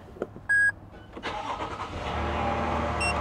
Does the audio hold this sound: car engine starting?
yes